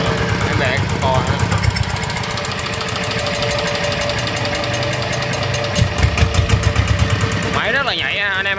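A Kubota ER40 single-cylinder diesel engine runs loud and close, with a steady knocking idle and rough rhythmic thumping throughout, and a revving swell near the end.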